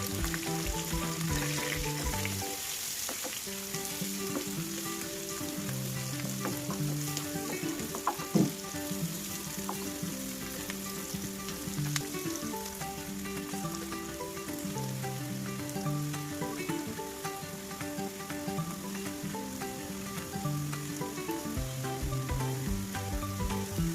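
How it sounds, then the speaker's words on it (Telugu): Onions, green chillies and turmeric frying in hot oil, a constant busy sizzle with occasional stirring scrapes, going on steadily throughout without any talking. "ఆనియన్స్ బాగా వేగాల్సిన పని లేదండి, నార్మల్గా వేగితే సరిపోతుంది"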